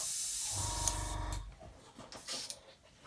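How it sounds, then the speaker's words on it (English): An airbrush sprays model paint with its nozzle removed, giving a close, loud hiss for about a second before it drops to softer, uneven bursts. "you can also do your spraying with no nozzle on there"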